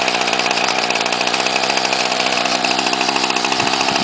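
An old string trimmer's small two-stroke engine runs at a steady, buzzing idle, loud and close with no one speaking.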